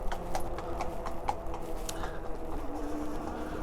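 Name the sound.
horse hooves clip-clopping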